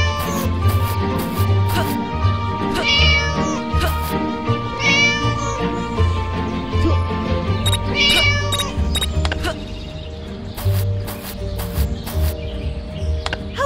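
A cartoon cat in the video game Scary Teacher 3D meows repeatedly in loud, drawn-out calls over busy game music and sound effects, with bright chirpy tones mixed in.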